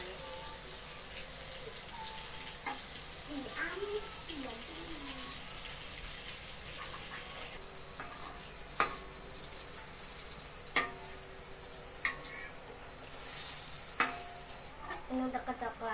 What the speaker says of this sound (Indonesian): Mau kita goreng sosis ya